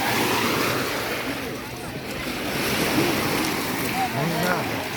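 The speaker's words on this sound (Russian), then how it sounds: "Мы на море." Sea waves wash onto the shore, a continuous broadband roar of surf swelling and easing, mixed with wind buffeting the microphone; faint voices are present in the background.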